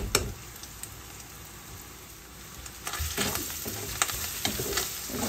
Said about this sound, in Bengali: আদা রসুন বাটা একসাথে দিয়ে দিলাম।